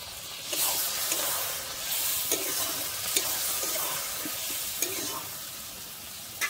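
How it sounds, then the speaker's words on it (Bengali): Chikni saag greens fry in a pan as a little water goes in, giving a broad steady hiss with soft scraping stir strokes and small clicks, at moderate volume and without speech. "আমি এরপরে কিন্তু এখানে অল্পই জল দিচ্ছি, সামান্য পরিমাণে আমি জল দিচ্ছি"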